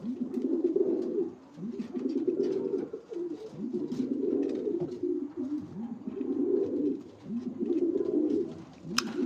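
Pigeons coo inside a loft, their low rolling calls arriving in repeated swelling phrases about every second or two, close and clear with no talk over them.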